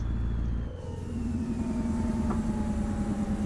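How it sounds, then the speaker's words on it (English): A European truck's engine brake in a trucking simulator game gives a steady, loud low rumble with a droning mid-pitched tone that holds on throughout, with no voices. "So European trucks really don't have Jake brakes. They just have like an engine brake."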